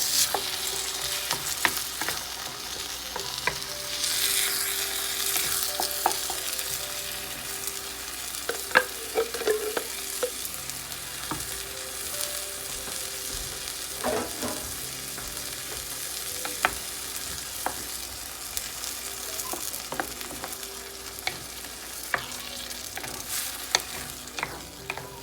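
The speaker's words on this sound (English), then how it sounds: "Now I'm going to add the tomato sauce." Tomato sauce hits a sizzling meatball tagine of potatoes, peas and mushrooms, frying steadily with a constant hiss while a spoon scrapes and clinks through repeated stirring.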